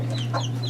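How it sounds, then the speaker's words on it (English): Chickens at a small farm animal sanctuary coop cluck softly in a brief burst, close by over a steady low hum, with no talk. "That's chicken."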